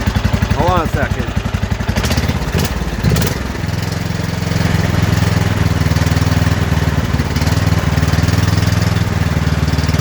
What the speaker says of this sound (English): My tractor is running, buddy.